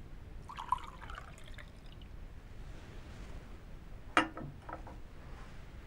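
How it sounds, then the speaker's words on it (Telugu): About 250 ml of water is poured from one vessel into another in a classroom demonstration, making faint, brief splashes and trickles in a quiet room. "అదేవిధంగా అదే నీటిని ఈ పాత్రలో వేసినప్పుడు"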